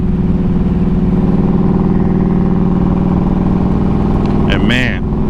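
A Harley-Davidson Road King idles close by with a steady, even rumble. A short voice-like sound breaks in near the end.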